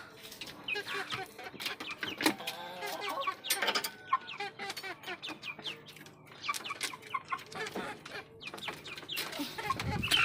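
A flock of chickens clucks and squawks continuously at close range, overlapping calls coming in busy bursts with no pauses.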